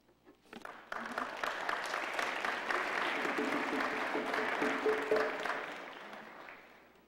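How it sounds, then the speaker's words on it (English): Sustained audience applause at a public gathering starts abruptly after a second of quiet, holds steady and fairly loud, then tapers off toward the end. "Please give her another round of applause."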